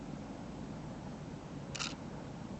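Slow 1/40-second shutter release of a digital SLR camera, a single brief mechanical click standing out over a steady hiss of background noise.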